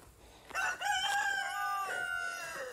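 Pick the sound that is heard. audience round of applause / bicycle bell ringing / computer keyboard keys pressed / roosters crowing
roosters crowing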